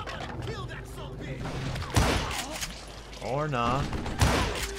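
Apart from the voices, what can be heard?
gunshots in video game Call of Juarez Gunslinger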